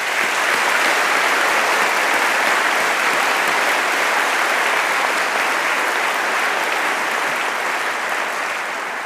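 Sustained applause from a large audience at a graduation ceremony, steady and dense for the whole stretch, easing slightly near the end.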